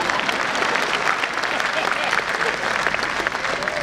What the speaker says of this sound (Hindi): ताली यहां बजानी थी